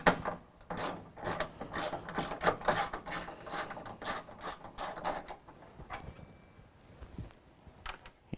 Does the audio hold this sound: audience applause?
no